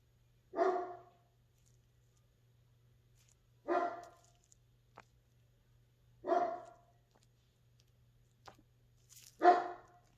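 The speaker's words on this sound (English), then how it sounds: "The doorbell just rang. The dogs are barking." A dog barks four times at evenly spaced intervals, single sharp woofs with quiet pauses between, fairly close by.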